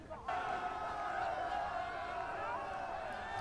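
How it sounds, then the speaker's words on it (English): Golf tournament gallery cheering and screaming loudly at a major championship, a sustained roar of crowd noise that swells in after a brief quiet start and holds steady throughout. "The crowd's going wild here, as you can hear all the screaming fans."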